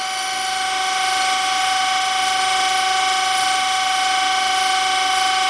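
A surface grinder works an edgefinder part in a toolmaking shop, giving a steady, loud, unbroken hiss with a sharp high whine throughout, the wheel grinding all the way around.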